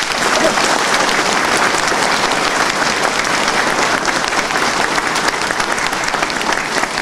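A crowd at a Turkish municipal political event gives hearty, sustained applause, loud and dense clapping filling the space without a break and with no voices on top.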